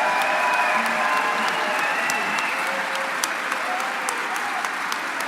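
Audience applause at a leadership debate in Edmonton: steady, full clapping from a sizeable crowd, sustained evenly throughout without pause.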